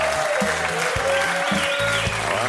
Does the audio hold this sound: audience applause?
yes